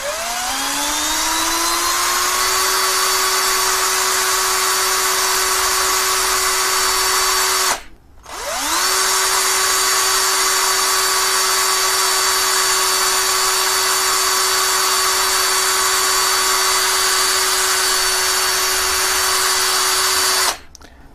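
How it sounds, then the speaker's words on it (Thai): An electric drill motor whines steadily at high speed, briefly stops and spins back up, then runs on continuously before cutting off at the end. "เดี๋ยวเบื้องต้นผมกดสวิตช์สว่านคาไว้ก่อน"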